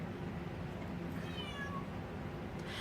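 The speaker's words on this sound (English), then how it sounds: "My cat is fine." A cat meows once in a short rising-falling call, moderately close, against a steady background of room noise, with no talking.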